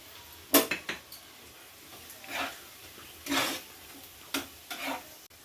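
Fennel seeds and green chilies go into a pan of frying onions for Bengali dahi chicken, with a faint sizzle beneath several sharp spoon clinks and scraping stirs against the pan, close and irregular.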